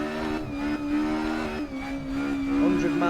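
Ford Escort Mk1 engine in the Assetto Corsa racing game, a loud steady racing engine drone held at high revs with a brief gear-change dip, close and continuous with no talk.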